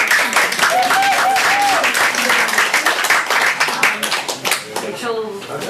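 Loud, close audience applause at a school board meeting, fast dense clapping from many hands that thins and tapers toward the end, with voices and a few cheers mixed in under the clapping.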